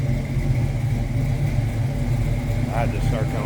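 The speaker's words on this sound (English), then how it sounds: "This car sounds good." A 1969 Chevrolet Camaro RS convertible's engine runs with a deep, steady low rumble close by, while a person talks briefly toward the end.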